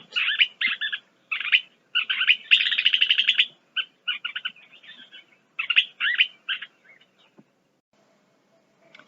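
A western kingbird gives bursts of sharp, chattering calls in quick clusters, fairly close, with short pauses between, then falls silent near the end.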